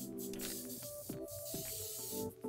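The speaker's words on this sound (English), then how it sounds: "you just wanna spray it really, really well with some cooking spray" A can of cooking spray hisses in short, soft bursts as a pie pan is coated, with faint clinks and background tones in a quiet kitchen and no talking over it.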